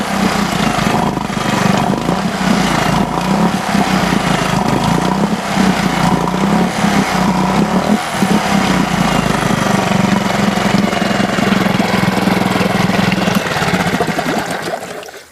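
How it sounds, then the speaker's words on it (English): A boat's small kicker outboard motor runs steadily, a loud, close buzzing drone with a chattering edge and some water churn, continuous for the whole stretch before cutting off at the end, no talk. "Kicker motor now works."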